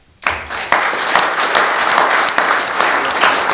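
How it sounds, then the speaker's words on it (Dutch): Large applause for care-home volunteers at a reopening in Bornerbroek, starting abruptly after a quiet moment and continuing as full, loud, steady clapping from a crowd. "een heel groot applaus voor jullie allemaal"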